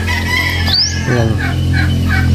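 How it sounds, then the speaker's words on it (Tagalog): Turkeys gobbling outdoors near a house, a loud close rattling gobble with a rising squeal amid a steady background hum. "Mga pabo."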